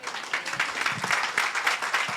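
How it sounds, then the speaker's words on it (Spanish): A church congregation claps in praise during a worship service, a moderate burst of scattered, uneven hand claps at some distance. "Un aplauso al Señor, por favor."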